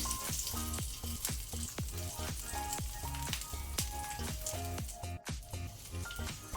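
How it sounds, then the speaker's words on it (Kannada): Chopped garlic fries in a pan over a low flame for paneer fried rice, giving a continuous close sizzle. Rhythmic taps and scrapes of stirring run through it, with no talk. "ಈಗ 15 ಪೀಸಸ್ ಗಾರ್ಲಿಕ್, ಬೆಳ್ಳುಳ್ಳಿ ಸಣ್ಣಕ್ಕೆ ತುಂಡು ಮಾಡಿ ಹಾಕ್ಕೊಳ್ತೇನೆ"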